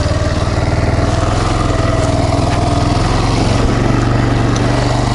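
A loud, close Kayo 180 quad bike engine running steadily on ice with a throbbing, even drone and no talking.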